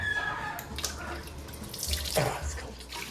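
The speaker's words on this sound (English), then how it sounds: "There's a nice water tap here." Water splashing from an outdoor tap, a faint uneven trickle and spatter with a couple of louder gushes, heard close by.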